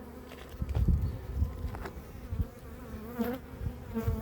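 Honeybees hum in a soft, continuous drone at an open hive during a late-season inspection, with individual bees whining past now and then and faint handling bumps in the background.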